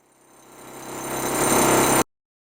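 Hilti TE 1000 AVR demolition hammer breaking a concrete slab, a steady mechanical hum that swells gradually louder for two seconds and then cuts off abruptly.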